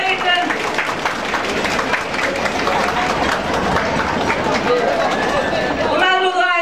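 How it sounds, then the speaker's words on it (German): A carnival audience stamps its feet hard on command, a loud rumbling, thudding roar mixed with clapping and crowd noise that fades near the end as voices return. "Kommando 2, fest mit den Füßen treten."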